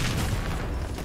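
Gunfire in a free online shooter video game, a dense continuous barrage of booming shots and bursts blending into a loud, steady roar with no clear gaps.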